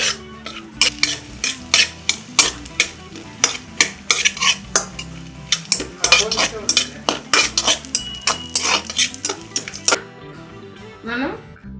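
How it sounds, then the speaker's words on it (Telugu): Dal and raisins fry in a pan while a spoon stirs them, scraping and clattering loudly against the metal in quick repeated strokes over a steady sizzle, with a voice talking at times. "పప్పు లైట్ గోల్డెన్ కలర్ వచ్చే వరకు వేయించుకోవాలి"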